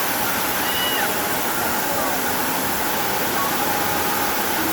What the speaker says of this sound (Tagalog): Ito guys yung Sprite Falls.